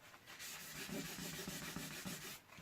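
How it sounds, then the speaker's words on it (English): Tissue rubbed back and forth over embossed powder pink cardstock, giving a continuous soft papery scuffing with a gentle rhythmic rise and fall, close and steady with no talking. "Rub the tissue across the card"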